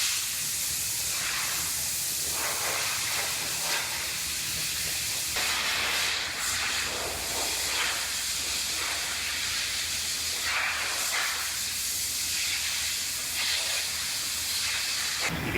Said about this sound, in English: So this is cavity wax, and it sprays in a 360-degree pattern